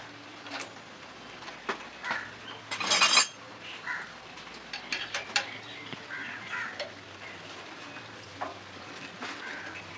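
A nut being tightened on the handlebar of a government-issue bicycle gives scattered metallic clicks, clinks and ratchety taps up close, with a brief louder rattling burst near the start, over a faint steady background hum.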